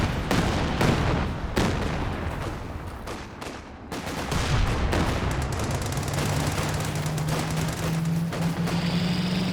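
Calliope rocket artillery from Company of Heroes 2 unleashes a dense, continuous barrage of rapid blasts and booms, with a rising whine emerging late among the steady roar of gunfire.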